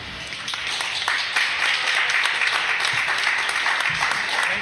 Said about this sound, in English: I'd just like all of you just give him a big round of applause.